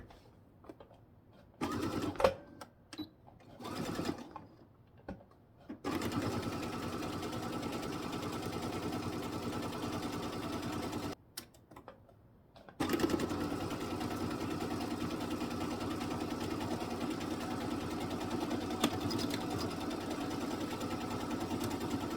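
A sewing machine joins fabric pieces for a book or Kindle sleeve, with a few short starts and stops before two long, steady runs of close mechanical whirring and no talk.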